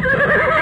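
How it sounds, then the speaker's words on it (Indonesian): A black horse neighs loudly and close by in one sustained, wavering whinny. "Seekor kuda hitam yang gagah meringkik keras"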